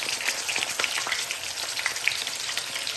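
Marinated pearl spot fish (karimeen) frying in a pan give a steady, close hiss and crackle of oil with scattered sharper pops throughout, with no talk.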